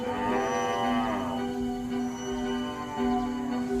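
Adult cattle moo in a long, drawn-out low call that holds steady for nearly four seconds, close and clear with no talking.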